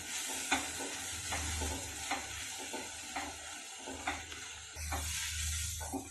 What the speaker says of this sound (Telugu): ఈ ప్రాసెస్ అంతా కూడా స్టవ్ అనేది సిమ్లో పెట్టుకొని వేపుకోవాలి.